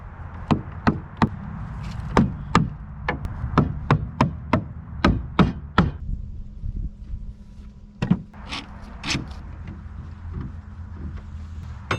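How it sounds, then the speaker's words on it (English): A hammer strikes and bends the metal of an 1860 jon boat's transom. About a dozen sharp, ringing blows come in a fast, steady rhythm, then a few sparser, heavier hits follow over a low background hum. "We're having to bend some of this out. I've already bent quite a bit of this metal out here."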